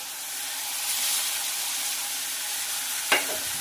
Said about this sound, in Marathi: आणि छानपैकी असं फ्राय करून घेणार आहोत